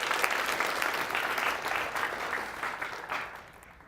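An audience claps together in a sustained burst of dense applause that holds steady, then thins and fades near the end.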